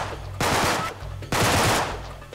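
Gunfire in Uncharted 3: Drake's Deception, two loud automatic bursts of rapid shots separated by a short pause, each trailing off into a low rumble.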